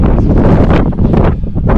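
Gusty wind on a mountain trail near O'Malley Peak buffets the microphone in a loud, continuous roar with rumbling low bursts, like standing on an exposed outdoor spot.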